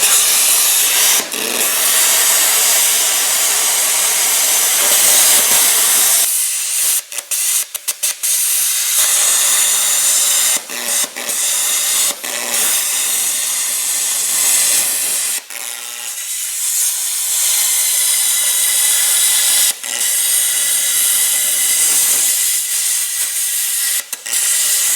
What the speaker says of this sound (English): my trusty plasma cutter to get in there and do it